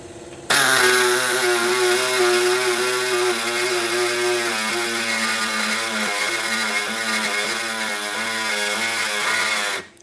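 A power saw cuts freehand through a 1940s automotive part for several seconds, a loud continuous whining buzz with a slightly wavering pitch, then cuts off.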